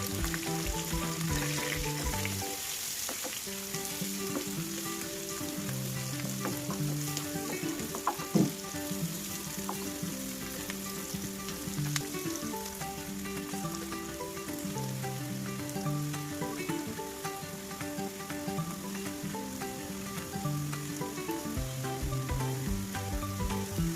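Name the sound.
onions, chillies and turmeric frying in oil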